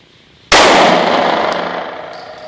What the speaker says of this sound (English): Jeff, would you please demonstrate shooting from the hip? One center mass